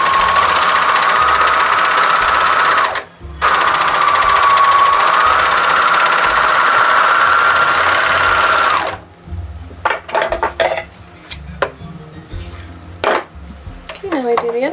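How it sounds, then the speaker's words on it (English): Sewing machine stitching pieces onto a tattered pixie skirt, a loud steady whirring run with one short pause, then stopping into clicks and handling noise. "Now we're going to sew these on, and they sort of line up a little bit."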